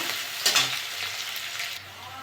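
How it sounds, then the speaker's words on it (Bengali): Onion with green chilli and chopped garlic fries in a pan, a loud close sizzle with a quick burst of stirring scrapes near the start, then a steady crackle that softens toward the end. "একটু ভেজে নেবো পেঁয়াজটা"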